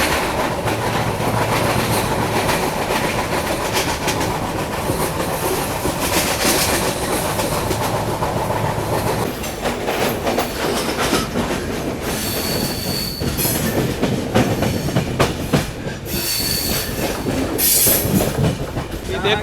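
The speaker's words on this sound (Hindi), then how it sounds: "ये देखो बस टनल से ट्रेन अपनी निकली है" The Mandovi Express runs on the rails with a loud, continuous rumble, rhythmic wheel clatter and intermittent high-pitched squeals from the wheels, heard from aboard the moving train.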